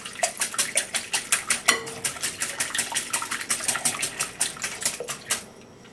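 Meatloaf ingredients with tomato paste and chopped parsley are mixed in a bowl, a utensil clicking and tapping against the sides in a fast, steady rhythm of close, sharp strokes.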